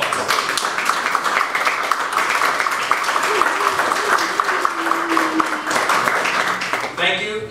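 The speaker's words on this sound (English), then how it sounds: "let's give all of these a round of applause." A church congregation applauds during a Memorial Day service, with dense, sustained clapping throughout and a voice speaking over it before the clapping thins out at the end.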